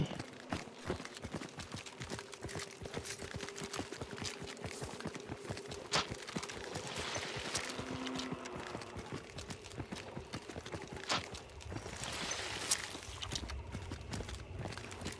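A horse in the Hunt: Showdown video game clip-clops along, with a steady run of hoof hits that continues throughout amid scattered game noises, fairly faint overall.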